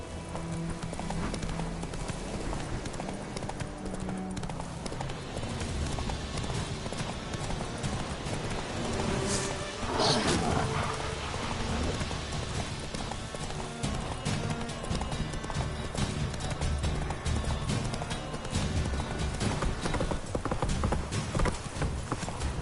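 A horse gallops in the game The Witcher 3, steady rapid hoofbeats running throughout with a brief whinny-like surge midway, close and loud against game ambience.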